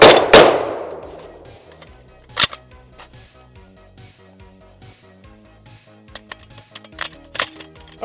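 A single loud shot from an AK-47 rifle made in Charlotte, North Carolina, rings out at the start with a long decaying tail, followed by a few sharper clanks and metallic clicks scattered through the rest.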